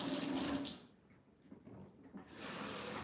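Hot water gushes from a kitchen tap while cube steak with gravy is cooked, a loud rushing stream that drops away briefly in the middle before flowing strongly again.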